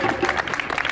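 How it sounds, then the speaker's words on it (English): A crowd at a street rally in Portland applauds, brief dense clapping heard at moderate distance with some voices mixed in. "Give yourself a round of applause for doing this."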